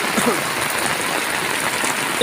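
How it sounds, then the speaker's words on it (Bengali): Heavy rain pours steadily on a street with drains filled to the brim, a dense continuous hiss with no breaks. "এত প্রচুর পরিমাণে বৃষ্টি পড়ছে"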